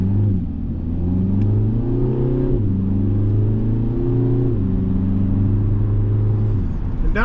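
A 2024 Kia Forte GT pulls away from a stop, its engine note rising steadily through the gears with a brief dip at a shift; loud, close and steady, with no talk.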